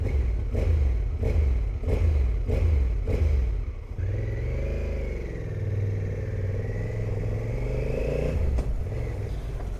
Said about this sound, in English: This bike has the same engine as Africa Twin, and as you can hear, it sounds pretty nice.